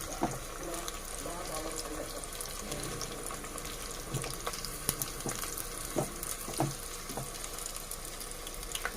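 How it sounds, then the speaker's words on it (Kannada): Marinated garlic chicken kebabs frying in oil over a low flame, a steady close sizzle with occasional pops and stirring clinks throughout. "ಇವಾಗಿಲ್ಲಿ ನೋಡಿ ಚೆನ್ನಾಗಿ ಫ್ರೈ ಆಗ್ತಾಯಿದೆ. ಲೋ ಫ್ಲೇಮಲ್ಲಿ ಫ್ರೈ ಮಾಡಬೇಕು"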